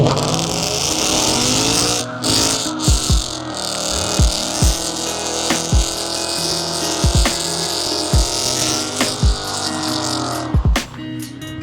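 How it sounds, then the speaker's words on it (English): A Ford Mustang accelerates hard through repeated gear changes, with its engine note climbing and then dropping at each shift in a steady rhythm, loud and close throughout. "The Mustang is driving good."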